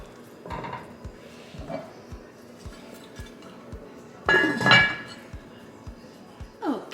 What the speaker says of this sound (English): Now I'm gonna pop the lid on, and we're gonna let it cook for 20 minutes